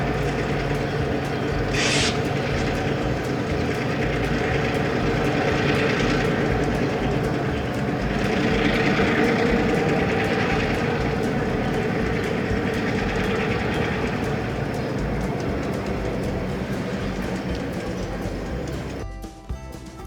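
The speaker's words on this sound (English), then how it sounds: "you can not only see, but also hear the trains as they pass through the yard" Trains rumble steadily through the rail yard at North Platte, Nebraska, the world's largest, a continuous heavy rolling noise with metallic clatter, loud and close throughout, with no talking.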